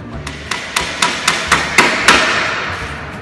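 Hammering wooden boards to build a plant bench outdoors: eight sharp, evenly spaced hammer strikes, close and loud, each ringing briefly, with no talking.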